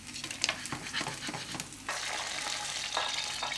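Mediterranean vegetables sautéing in a hot frying pan with olive oil, with a steady bright sizzle and a series of clattering stirs and tosses, the frying settling into a continuous hiss partway through.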